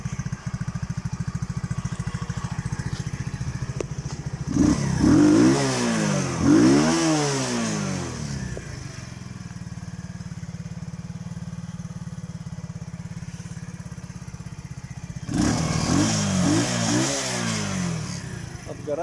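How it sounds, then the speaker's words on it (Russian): An Alpha Lesnik crosstrack motorcycle engine, able to spin to 10,000 rpm, idles with a steady putter, then revs up in two sharp rising-and-falling bursts, settles back to idle, and revs again near the end. "Мотор вообще до 10 тысяч оборотов крутится."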